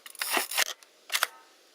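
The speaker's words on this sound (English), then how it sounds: "there you can see the shutter is actually working." Mamiya RZ67 medium-format camera with a Mamiya-Sekor Z 50mm f/4.5 W lens, its shutter firing as a few sharp mechanical clicks and whirring clacks in two quick bursts, close and crisp with no talking.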